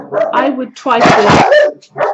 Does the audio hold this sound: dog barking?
yes